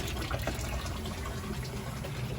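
Water drains steadily from a steam boiler during a maintenance service call, a loud continuous rushing gush with no pauses, filling the whole space close to the listener with no voices.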